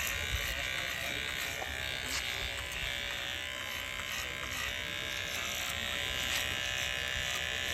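An electric hair trimmer buzzes steadily and close while cutting a man's hair, humming without a break for several seconds.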